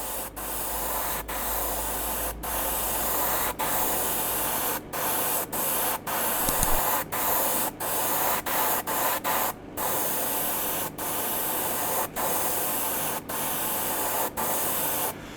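Airbrush spray painting a fishing lure, a steady close hiss of compressed air broken by short regular gaps as the trigger is released and pressed again.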